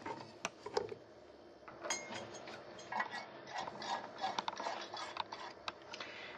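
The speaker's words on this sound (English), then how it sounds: "Take the socket assembly, compress it and slide it down in, then rotate it the proper direction." Socket assembly for an inground light fixture is pressed down and twisted into place, giving faint scattered plastic clicks and scrapes in a quiet setting.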